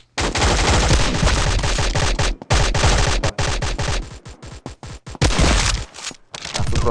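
A P90 submachine gun fires in the Poly War shooter game, with loud, rapid automatic bursts broken by short pauses, close and dominant, with no talk.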